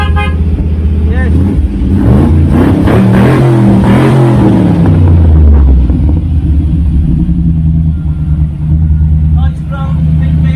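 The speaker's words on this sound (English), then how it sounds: "Nice strong big V8 motor" An AC Cobra replica's big V8 rumbles and revs close by, deep and loud with a few rising throttle blips before easing back to idle, while someone talks over it.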